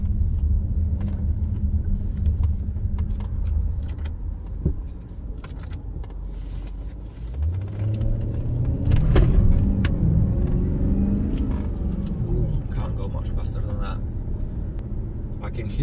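A 2012 Audi A8L 4.2 TDI V8 diesel runs with a deep, steady low rumble, its note shifting as it revs partway through, while a person talks over it.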